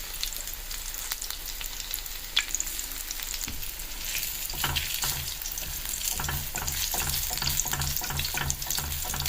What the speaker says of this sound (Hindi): इसको बर्तन को अगर आप थोड़ा साइड में लाओगे तो तेल आ जाएगा और आसानी से आपका पक जाएगा जल्दी